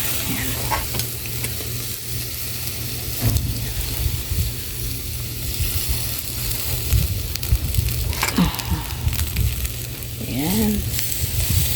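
Chicken grills over a low open fire, giving a steady crackling sizzle close by with scattered pops and snaps throughout, heard alone without talk.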